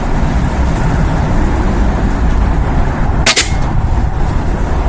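A single sharp gunshot from a rifle mounted on a tripod cracks out about two-thirds of the way through, standing clear above a steady, loud outdoor background rumble.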